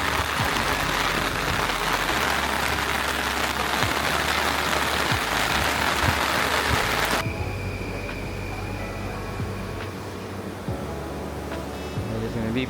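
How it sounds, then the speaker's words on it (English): Heavy rain pours steadily in Tokyo, a dense close hiss that fills the scene, then drops to a softer, quieter wash partway through with faint background sounds. "onslaught of rain."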